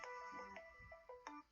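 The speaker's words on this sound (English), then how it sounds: "my phone is ringing" A mobile phone rings faintly during a lecture, a short sequence of melodic ringtone notes, quiet and slightly distant.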